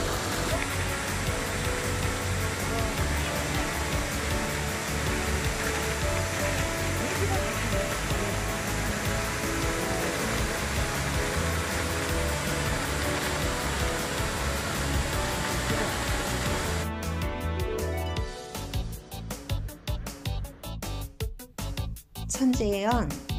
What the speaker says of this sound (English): The wide, white waterfalls and blue pool make a beautiful scenery.